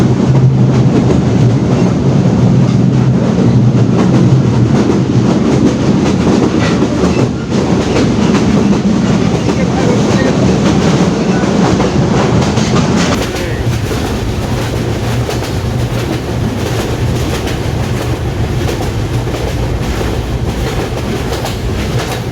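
A crowded passenger train on the Jashore to Khulna route runs along with a steady low rumble and rail clatter, loud and continuous, easing slightly partway through.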